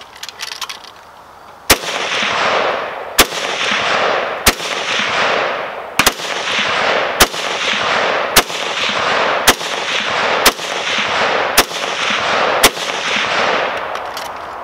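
Chinese SKS rifle fired at an outdoor range, about ten loud sharp shots spaced roughly a second apart, each with a ringing echo, with no talking.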